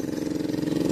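Engine running nearby to pump cold water into a fish pond, a steady pulsing idle with a regular rapid thump, heard alone for about a second.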